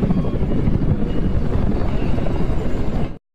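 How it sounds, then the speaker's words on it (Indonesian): Loud, continuous rotor thrum from Apache and Chinook military helicopters fills the whole stretch, a steady low chopping roar that cuts off abruptly at the end. "Dengan menerbangkan 2 helikopter Apache dan 2 heli Chinook"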